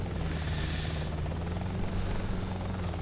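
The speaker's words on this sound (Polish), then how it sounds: "Oczywiście mój helikopter leci z nimi." A helicopter in Hostile Waters flies along with a steady, loud rotor thrum and engine drone that holds constant throughout, heard alone without any talk.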